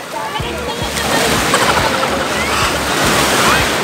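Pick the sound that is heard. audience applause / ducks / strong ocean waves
strong ocean waves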